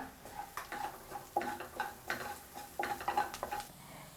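A spoon scrapes and clatters in a pan as chilli powder and sambar powder are mixed into fried leftover idli pieces: a rhythmic run of metallic clinks and scrapes, close and fairly quiet.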